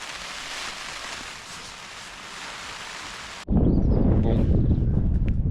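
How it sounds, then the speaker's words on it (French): Broad hissing rain with wind rushing throughout on Madeira, then a sudden jump to a much louder, rumbling roar of rain and gusts close to the microphone. "juste écoutez le bruit et la pluie et le vent"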